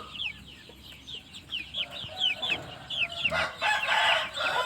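Three-month-old chicks of a naked-neck (ง่อนร้อย) chicken breed clucking and chirping close by, a busy run of short repeated calls that thickens into a dense flock chorus toward the end, with no talking.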